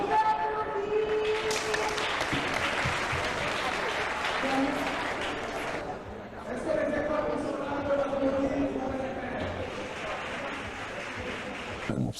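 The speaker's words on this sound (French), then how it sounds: "Vous pouvez applaudir." An audience at a literary event applauds schoolchildren's work with sustained clapping that swells and eases, while a voice speaks over it.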